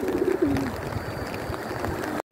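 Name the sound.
pigeons cooing by the water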